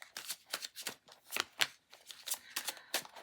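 Tarot cards are shuffled close up, a series of crisp riffling and slapping bursts in an uneven rhythm, with no talking.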